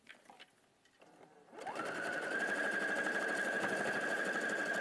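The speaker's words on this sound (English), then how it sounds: "Over to the sewing machine." A sewing machine starts up after a quiet moment and runs steadily, stitching with a fast, even mechanical whir and a high motor whine, close and loud for the rest of the clip.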